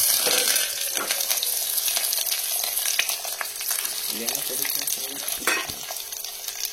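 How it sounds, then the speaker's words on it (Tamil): Mustard seeds splutter in hot oil, a steady sizzle with a dense crackle of quick pops and spits, close and fairly loud, with no talking. "கடுகு வெடிச்சிச்சு"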